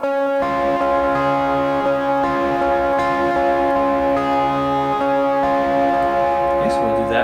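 A guitar picks the bridge pattern from Raise A Hallelujah, a steady flow of sustained ringing notes that overlap at a loud, even level and carry on without any pause.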